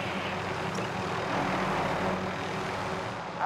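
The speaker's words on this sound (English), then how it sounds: "I'm just coming back with the chopper." A helicopter in the game Warzone comes in to land with a steady, rumbling engine and rotor roar that holds constant and fairly loud, with no voices.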